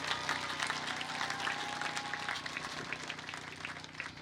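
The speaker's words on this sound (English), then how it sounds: "One last round of applause for our valedictorians." Graduation ceremony applause for valedictorians at Minarets High School, a faint, distant crowd clapping steadily across the whole stretch with no speech over it.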